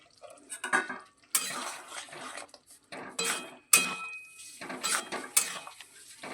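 A spoon scrapes and clinks against a metal pot while garam masala paste and ghee are stirred into a taro curry, in irregular bursts of clattering strokes with short pauses between, close and moderately loud.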